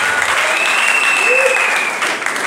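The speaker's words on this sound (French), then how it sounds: "Shall we clap for Jesus? Clap for Jesus." A church congregation claps in praise of Jesus, a dense, steady roar of many hands filling the room throughout, with a sustained tone and voices mixed in beneath.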